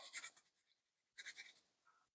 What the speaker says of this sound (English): you're going to take a pencil and you're going to kind of roughly go over the outline